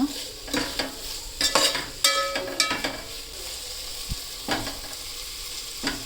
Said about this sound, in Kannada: ಟೊಮೆಟೊ ಸ್ವಲ್ಪ ಮೆತ್ತಗಾಗಬೇಕು ಸ್ವಲ್ಪ ಹಾಗೆ ಫ್ರೈ ಮಾಡ್ಕೊಳ್ಳೋಣ ಮೆತ್ತಗಾಗೋ ತನಕ